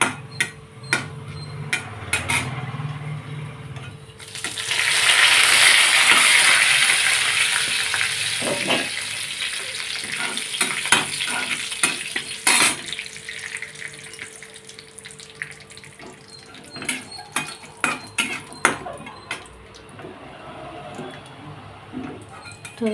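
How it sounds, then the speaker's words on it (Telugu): Tempering spices sputter and crackle in hot oil in a pan, a loud sizzling burst early on settling into scattered sharp pops and light clatters, close and without talk. "పోపులు వేసేసి పోపులు వేగిపోయాక"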